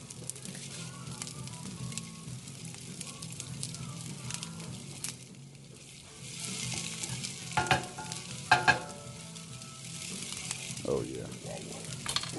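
Garlic and meat sauce sizzling in a pan, a low steady frying hiss with occasional utensil clinks and stirring, a brief quiet gap midway; someone speaks a few words.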